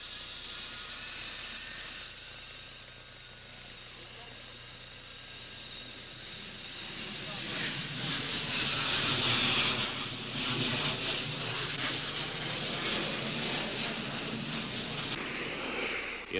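Military jet aircraft taking off on a combat mission during the Vietnam War, a steady roaring engine rumble with wind noise that swells louder midway and holds, heard alone without talk.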